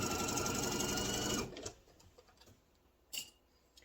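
A sewing machine stitches apron fabric in a loud, steady whir for about a second and a half, then stops, leaving faint clicks and handling noises with one brief sharp tap near the end.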